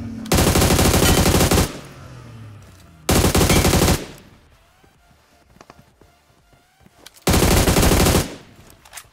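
MK14 rifle fire in a PUBG-style battle royale game: three long, loud sustained bursts of automatic gunfire separated by quieter gaps with faint footsteps and game ambience, no talking.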